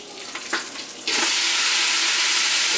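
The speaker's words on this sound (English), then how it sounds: "And start putting some water in there." Water is poured into a hot pan of cabbage, and after quiet handling noises a loud, steady sizzling hiss bursts up and continues to the end.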